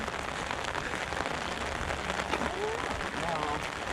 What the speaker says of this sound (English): that rain getting intense